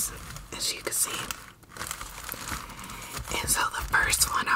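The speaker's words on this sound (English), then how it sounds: "So today I am going to page turn through two" Glossy magazine pages being turned close to the mic for ASMR, giving soft crinkly rustles and papery flicks in an irregular rhythm, fairly quiet and steady with no talking.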